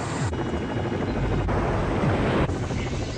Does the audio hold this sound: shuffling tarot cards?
no